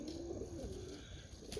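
Pigeons cooing softly, a low rounded coo repeating a few times against faint outdoor background noise, with no talking.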